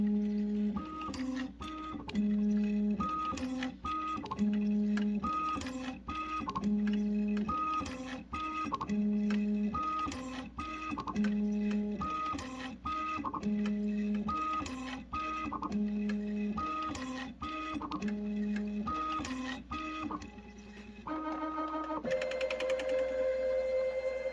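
A Matrix Filler Wizard packaging filling machine runs through repeated filling cycles, its motors giving off steady, stepped mechanical tones in a regular rhythm, close and continuous with no talking.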